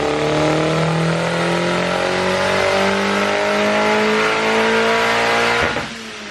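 A Honda CRX SOHC turbo engine running with the AC switched on and off, a loud, close, sustained drone whose pitch slowly rises and steadies before dropping sharply near the end.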